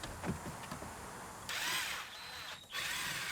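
A power drill whirs in short, fairly quiet runs while driving screws into the dash panel of a Grand Am GT, with a brief stop and restart near the end.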